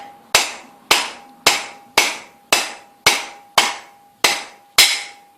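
Hammer strikes on a headset press tool while installing a bicycle fork: nine sharp, evenly spaced metallic blows about half a second apart, each with a short ringing tail and a faint steady tone between them.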